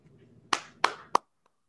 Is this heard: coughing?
no